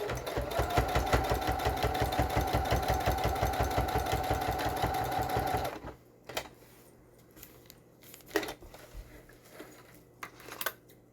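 A sewing machine tacks down fabric for a craft project, running in a fast, loud, even stitching rhythm for several seconds before stopping abruptly. After that come only scattered soft handling clicks and rustles.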